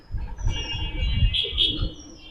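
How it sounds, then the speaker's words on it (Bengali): Giribaz-breed Rabbani pigeons in a cage give soft coos and calls, with thin chirpy notes rising over low rumbling murmurs, close by and fairly steady through a short stretch. "রাব্বানি কবুতর দেখেন"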